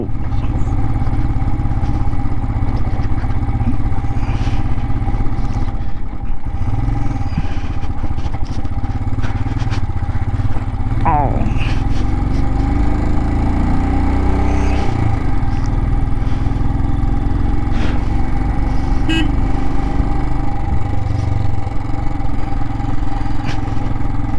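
A motorcycle rides the mountain road from Leh up to Khardung La Pass, its engine droning loud and steady throughout with wind rumble, occasional shifts in pitch, and a brief passing vehicle sound midway.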